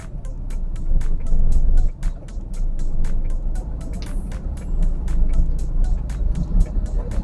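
A manual car pulls away in first gear with the clutch half released and gentle throttle. A low engine hum rises steadily, with a regular ticking of the turn signal running through it, heard from inside the cabin.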